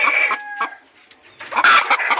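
Several newly bought desi country hens clucking close by in bursts, with a quiet gap in the middle before a louder flurry of overlapping clucks.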